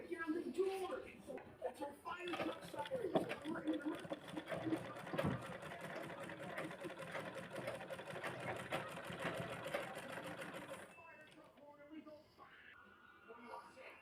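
A domestic sewing machine stitches a child's pillow cover with a continuous rapid rattling hum for about ten seconds before slowing to a few scattered clicks.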